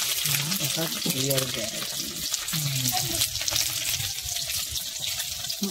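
Eggs fry in a pan with steady oil sizzling and frying crackle while a person speaks over it in the foreground.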